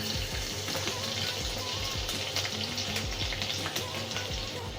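Finely chopped garlic sizzles in hot oil with cumin seeds, a steady, even crackle of frying that holds from start to finish at moderate loudness, with no talking.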